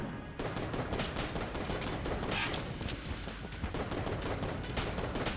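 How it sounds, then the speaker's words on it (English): Flaming shots from the Phoenix gun in Enter the Gungeon pour out in a continuous, steady rattling stream, loud and dense, with faint higher chirps above it and no talk. "Look at the size of these flaming shots."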